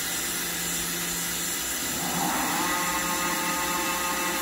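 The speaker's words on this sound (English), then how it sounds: "Run the spindle, please." A Mazak FH-6000 4-axis horizontal CNC machining center hums steadily as its spindle runs. The whine rises in pitch about halfway through and keeps going without a break.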